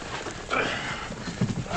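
Horse hooves clip-clopping close by in a Western TV drama scene, with a steady uneven beat of hoof strikes over a low rumble and a brief voice in the background.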